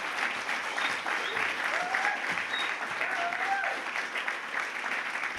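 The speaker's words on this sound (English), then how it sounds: "can we get a big clap for that video?" A panel discussion audience gives steady, even applause after a video screening, with the clapping held at moderate distance and continuing for several seconds.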